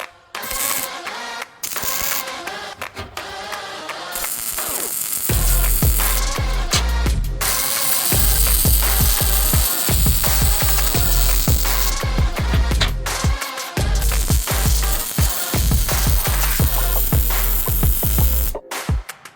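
Steel for a saddle display frame is welded on a jig table with a loud, dense crackling buzz that runs in long bursts with brief pauses, close by and with no talk.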